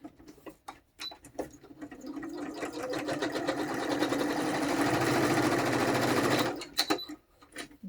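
A sewing machine runs a continuous straight stitch, building to a steady whirring drone that holds for about four seconds before stopping, framed by a few soft handling clicks and taps at the start and end.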